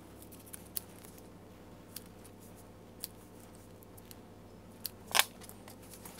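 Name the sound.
cutting Phomemo pocket printer sticker paper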